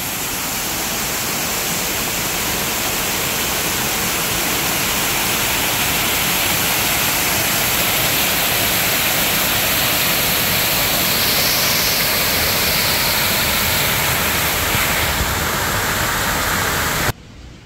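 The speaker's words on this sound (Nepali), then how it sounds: "अचानक यहाँ झरना बनाइदिएको रहेछ" A man-made waterfall in San Antonio splashing and roaring, a dense steady wash of falling water heard close and loud without break, ending abruptly.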